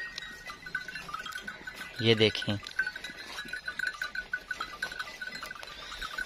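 Flock of sheep with a few goats grazing on fodder in a Pakistani village, one loud close bleat and some faint rustling and animal sounds under someone talking nearby.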